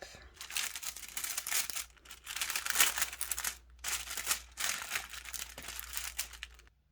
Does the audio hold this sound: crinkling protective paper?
yes